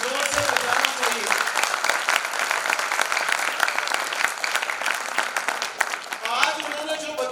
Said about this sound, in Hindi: एक जोरदार क्लैपिंग देंगे।